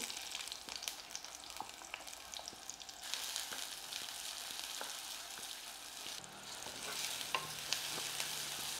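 Chopped medium-size onion frying in a pan with cumin seeds and soaked chana dal, a steady close sizzle broken by scraping stirs of a spatula, no voices.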